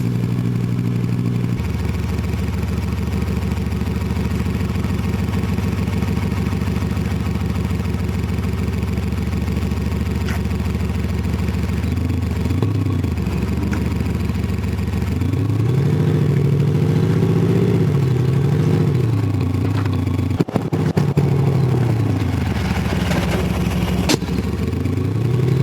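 A Ford Ranger Wildtrak fitted with a Milltek active exhaust sound generator: a steady, loud idling rumble with a deep drone, then a few blips and revs that swell and settle again, with no talking.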